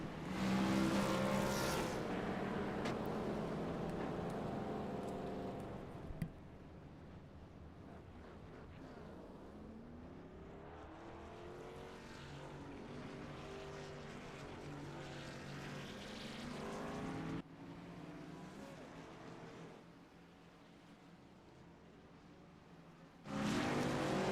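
Race trucks circle the Las Vegas track at pace speed, their engines droning and sweeping past in waves with rising and falling pitch, heard from a distance at moderate loudness.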